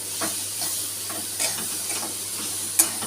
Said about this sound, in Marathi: फोडणीमध्ये तिला चांगली परतून घ्यायची आहे